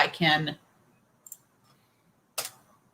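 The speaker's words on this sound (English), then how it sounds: "If I double click" A computer mouse gives a couple of small, quick clicks after a brief stretch of talk, faint and close in a quiet room.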